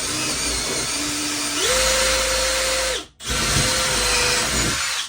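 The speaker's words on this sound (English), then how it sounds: "Now you're going to take an 1/8 of an inch drill bit and you're going to drill out the other holes." A power drill with a 1/8-inch bit drills holes for an RV bed lift kit, running steadily, its motor pitch rising partway through, then stops briefly and starts again for a second continuous burst.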